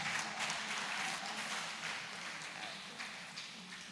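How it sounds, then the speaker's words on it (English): Applause from an audience at a World Mental Health Day celebration, a dense crackle of clapping held at a moderate distance and slowly easing off. "Round of applause for Round of it."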